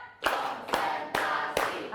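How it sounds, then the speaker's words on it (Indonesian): Four sharp, evenly spaced hand claps from a classroom group following a teacher's clapping instruction, each a crisp burst with short gaps between, fairly loud and close. "Tepuk empat."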